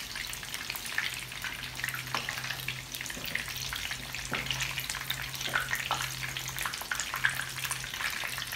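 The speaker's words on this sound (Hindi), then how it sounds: "इस तरह से इसको हम टर्न कर देंगे, दोनों साइड से अच्छे से बहुत अच्छे से इसको गोल्डन सा फ्राई कर लें।" Mutton chops fry in hot oil until golden on both sides, a close, dense crackling sizzle that runs continuously with small pops and occasional turning clatter.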